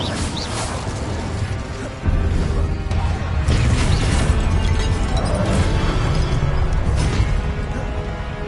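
Incendio fire spell cast in Hogwarts Legacy combat, a thick stretch of crashing, bursting impacts and mechanical clatter with a louder surge after the first couple of seconds, continuing busily throughout without talk.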